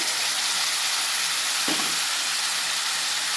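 Cauliflower tipped into a hot pan with turmeric for a cauliflower tomato curry, giving a steady loud hiss of frying with a brief thump as the pieces land midway.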